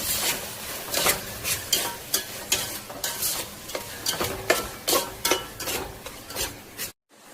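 Capsicum and other vegetables stir-fried in oil: a steady run of rhythmic spatula scrapes about twice a second over a soft sizzle, close up, with no talking, ending in sudden silence.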